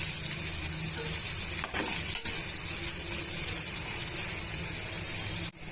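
Onion and green chilli pieces fry in a pan for a bitter gourd masala gravy, a loud, continuous hiss of sizzling oil with a couple of brief stirring bumps and no talking.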